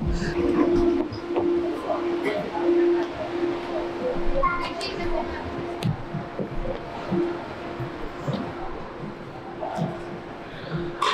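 A Wuppertal suspension railway train pulls into its last stop in Germany, giving a steady tonal motor hum over a continuous low rumble inside the car, with voices talking throughout.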